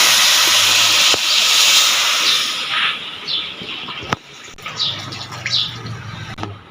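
Beef stock poured onto hot fried beef for beef yakhni pulao sends up a loud, rushing sizzle that gradually fades, while faint chirps and clatter sound in the background.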